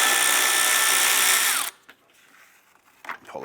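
A power tool backs out a 10mm bolt from the driver's-side base cowl tab under the wiper transmission of a 2011-2019 Ford Fiesta: a loud, steady whirring burst for under two seconds that winds down, then quiet handling clicks.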